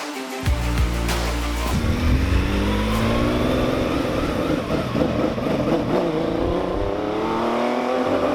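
Rebuilt 1968 Porsche 911 engine revving loudly and close, rising through repeated throttle blips over a rough idle, with no voices.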